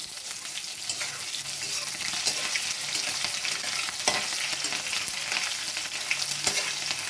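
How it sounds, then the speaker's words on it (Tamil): Onions sautéing in hot oil with spluttered mustard seeds, garlic, curry leaves and dried red chillies, giving a steady close sizzle and crackle with occasional scraping stirs, no voices. "வெங்காயம் கொஞ்சம் நல்லா செவக்க வதக்கணுங்க."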